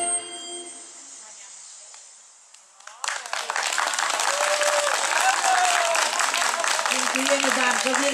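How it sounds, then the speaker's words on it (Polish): Audience applause after a children's play at a family day event at a care home in Międzylesie, a loud, sustained crowd clapping that bursts in after a quiet tonal passage and carries on to the end, with voices faintly mixed in. "Bardzo wielkie brawa dla naszych aktorek, wielkie brawa"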